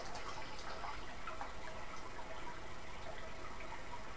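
A steady, soft trickle of water poured from a neti pot through the nostrils over a bowl, a continuous gentle stream with no voices.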